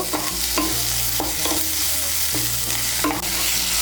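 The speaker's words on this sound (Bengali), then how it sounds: "এখন এর মধ্যে দিয়ে দেবো টমেটো কুচি। টমেটো কুচিটাকে মিশিয়ে নেব। মিশিয়ে নিয়ে একটু ভেজে নেব।" Chopped tomato being stirred into fried onion in a pan, with a steady loud sizzle and repeated scraping stirs of the spatula, no voices.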